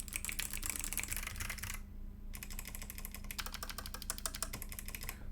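Rapid keystrokes on a custom 75% mechanical keyboard with GMK ABS sharp-profile keycaps, a steady clacking run with a short pause midway, close and alone.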